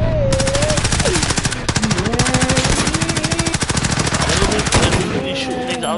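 Rapid, sustained automatic gunfire from Call of Duty, loud and dense with steady rhythmic bursts throughout, while a player's voice talks over the shooting.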